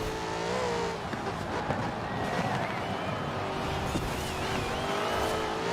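Engine of a 2015 Jaguar F-Type R Coupe driven in Forza Horizon 4, a steady loud drone with rising and falling revs and tire noise throughout, game music or effects faintly mixed in.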